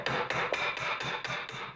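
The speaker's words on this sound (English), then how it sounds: "you need to take just a little hammer and a piece of wood and kind of get up under the lip." A small hammer taps a piece of wood held against a speaker part, sounding as a steady series of about seven sharp knocks, close and fairly loud with no talk.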